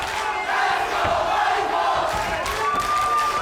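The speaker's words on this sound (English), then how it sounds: "The crowd is cheering." Crowd at an MMA fight cheering and shouting in a continuous, loud roar that fills the space without letting up.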